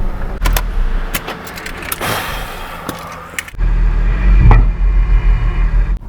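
A car on a road trip rolls along with a steady close engine and road rumble inside the cabin, broken by sharp clicks and jangles, then a louder, heavier drone takes over partway through.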